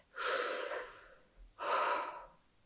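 Two long, deep breaths drawn close to the microphone, each a breathy rush lasting about a second, separated by a brief pause in quiet surroundings.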